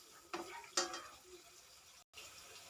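Onion dropped into a pan with garlic for chicken afritada and stirred, two quick sizzling bursts followed by a faint low frying hiss, quiet and close, no voices.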